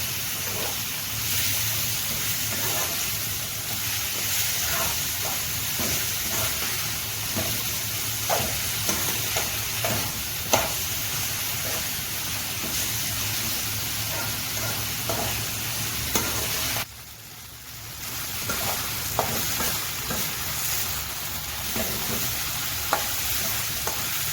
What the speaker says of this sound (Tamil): ஆட் பண்ணி எல்லாத்தையும் சேர்த்து நல்லா வதக்குங்க.